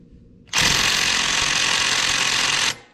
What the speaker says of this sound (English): let me see if my low impact is going to pull this pulley off